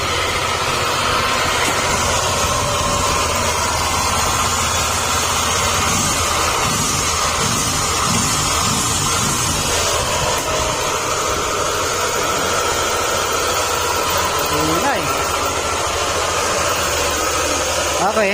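A flood-damaged motorcycle engine running steadily, a loud, close, rough drone that holds for the whole stretch without pause.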